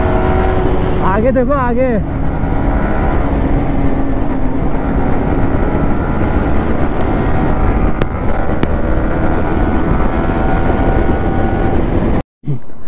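Modified Bajaj RS 200 motorcycle pulling a wheelie in city traffic, its engine droning loudly under heavy rushing wind buffeting the microphone, while a rider's voice calls out briefly over the noise.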